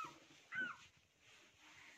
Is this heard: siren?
no